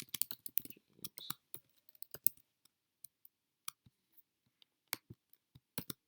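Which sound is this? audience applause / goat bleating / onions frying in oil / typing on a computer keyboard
typing on a computer keyboard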